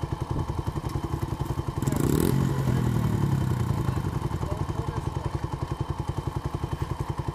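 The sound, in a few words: dirt bike engine idling poorly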